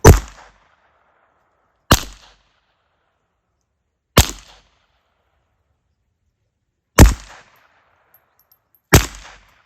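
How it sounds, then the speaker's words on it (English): Suppressed Ruger Mark IV Lite pistol firing Remington Thunderbolt rounds at close range, five sharp, separate cracks about two seconds apart, each dying away quickly into silence. "Starting at a distance of 3 to 5 yards today, shooting Remington Thunderbolt"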